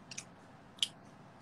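Someone chewing a crumbly brownie up close, with a few soft moist bites and crunchy clicks spaced apart over a quiet background.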